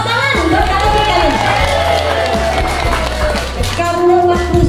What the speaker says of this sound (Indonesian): Tepuk tangan buat Pak Kabit kami.